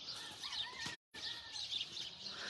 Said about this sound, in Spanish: los pajaritos, qué bonito.